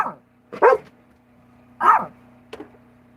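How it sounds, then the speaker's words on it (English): A dog barks three times in short, sharp bursts with pauses between, close by in Sedona, over a steady low electrical hum. "What are you barking at?"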